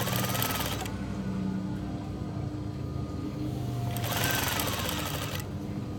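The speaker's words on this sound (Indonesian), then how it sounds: "Kita jahit sampai keliling." Sewing machine stitching curtain fabric around the edge of a front car floor mat, a steady close whirring run in two bursts with a quieter pause between them.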